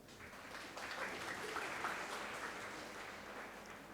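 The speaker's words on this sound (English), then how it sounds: "can we have a round of applause?" Audience applause following a lightning talk at a tech conference: a steady wash of clapping from a modest crowd, fairly even and moderately loud across the whole stretch, with no talk over it.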